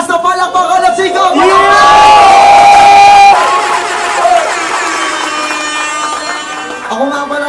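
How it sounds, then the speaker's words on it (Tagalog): A rap battle crowd at a festival finale erupts in loud cheering, whoops and shouting, swelling to a peak then easing into sustained noisy roar, with a voice rising above the din near the start. "aking pong hinihingi ngayong malakas na palakpakan at sigaw"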